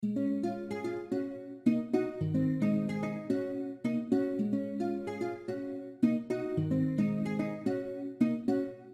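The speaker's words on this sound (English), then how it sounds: "So my nylon guitar here sounds like this." Nylon-string guitar preset in FL Studio plays a plucked, looping sebene-style melody with layered harmonic notes and a repeating rhythmic pattern, steady and fairly soft, with no talking.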